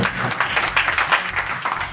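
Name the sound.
audience applause, clapping with both hands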